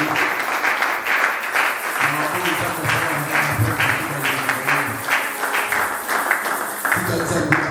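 A church congregation applauds at a New Year service, steady rhythmic clapping that fills the room for several seconds while voices call and sing along underneath.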